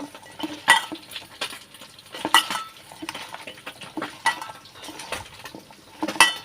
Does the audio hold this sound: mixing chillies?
yes